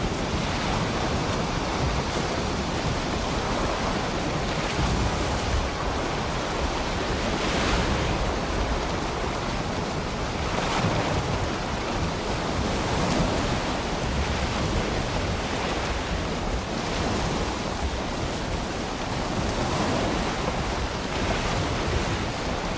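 A boat sails across ocean waves in the game Valheim, with steady, unbroken surf and wind rushing throughout at a moderate level and no voices.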